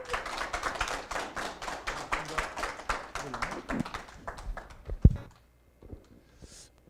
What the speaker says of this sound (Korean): 서울 계례 하나 또 대표를 맡고 계시는 우리 김민웅 대표님을 큰 박수로 모시겠습니다.